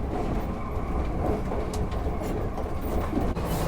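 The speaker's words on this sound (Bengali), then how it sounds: "এই ট্রেন একশো সাতাশ কিলোমিটার পার আওয়ার কিন্তু স্পিড তুলে নিয়েছে" A Howrah Rajdhani Express train rushes along at about 127 km/h, with a steady loud roar and faint rhythmic clatter of wheels on the rails.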